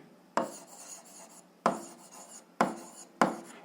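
Four bursts of scratchy pen or pencil strokes on paper while an algebra exercise is written out by hand, each stroke group starting sharply and then rasping on for about a second, close and fairly quiet, with no talking.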